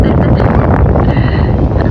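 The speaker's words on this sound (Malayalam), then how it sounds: "നല്ല കാറ്റ് ഗൈസ്, നല്ല കാറ്റ് ഗൈസ്." Strong wind gusts buffet the microphone beside a river, a loud, close, rough roar that stays steady throughout.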